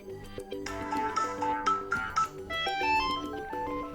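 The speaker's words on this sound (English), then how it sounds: "here you have phone ringtone, and here you can select your ringtone" Phone ringtone played back on a Kruger & Matz Move 9 smartphone: a bright, melodic synthesized tune of short repeated notes, steady and fairly loud, heard alone without talk.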